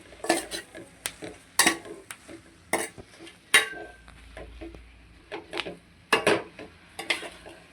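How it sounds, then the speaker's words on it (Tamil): Greens being stirred and sautéed in a metal pan, with repeated sharp clanks and scrapes of a spoon against the pan in an irregular rhythm, fairly close and loud, with no talking. "கீரை நல்லா வதங்கி வரணுங்க. வதக்குறேன்."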